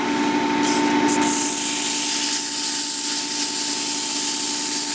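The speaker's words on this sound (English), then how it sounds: "Like any woodwork, a huge part of good work is sanding." Sanding a wood-turned lighthouse tower on a lathe gives a steady, loud, continuous hissing rasp over a constant motor hum, unbroken for the whole stretch with no talking.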